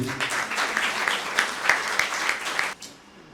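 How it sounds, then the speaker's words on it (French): Applause for the Kouyo Foundation at an event in Port-Bouët, a steady burst of many clapping hands lasting under three seconds before cutting off. "Je vous demande d'applaudir encore la Fondation Kuyo."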